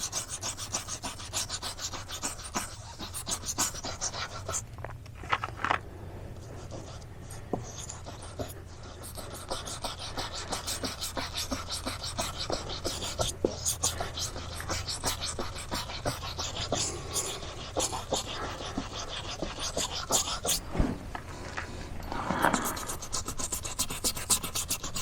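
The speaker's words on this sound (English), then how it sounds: "It does take a little bit of scrubbing" Steady scrubbing rasps on the white wall of a tire with baking soda, a continuous close rhythmic rubbing that runs throughout with brief pauses and small taps.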